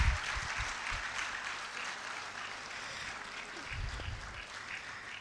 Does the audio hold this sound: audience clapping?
yes